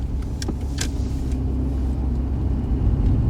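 A Rover 45 CVT Mk1, warmed up, pulling away in drive without stalling, heard as a steady low engine rumble and road noise from inside the car with a few light clicks early on.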